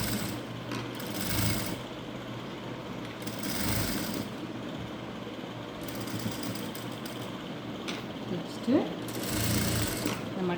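A sewing machine runs steadily, stitching blouse fabric for a boat neck design in a close, continuous whir with brief pauses, while a voice talks over it.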